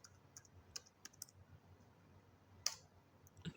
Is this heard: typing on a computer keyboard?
yes